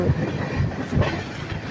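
Deccan Express train running fast, a steady loud rumble with rhythmic clickety-clack of wheels over rail joints, continuous throughout without talk.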